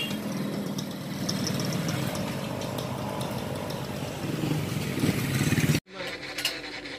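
A motorcycle engine runs steadily at close range for most of the stretch, a continuous mid-pitched drone that cuts out sharply near the end before a brief restart of noise.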